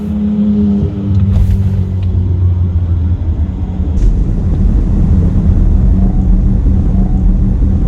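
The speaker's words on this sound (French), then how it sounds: "Là on va s'arrêter, on va mettre un gros burn. Accroche-toi frérot, ça va décoller." A 2019 Audi e-tron electric car launches hard, making a loud low rumble and road roar that swells and holds steady, heard from inside the cabin with no speech.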